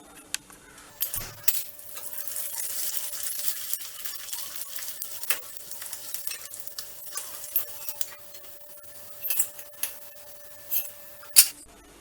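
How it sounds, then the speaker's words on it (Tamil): Dried tomato vadam frying in hot oil: a steady soft sizzle and crackle runs throughout, with occasional sharper ticks and clicks of stirring or a utensil near the end, no talking. "இப்போ வறுத்து காமிச்சிட்றேன்"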